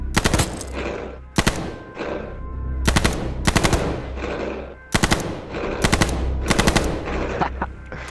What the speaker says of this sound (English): I hate that LMG, even though that's what killed me.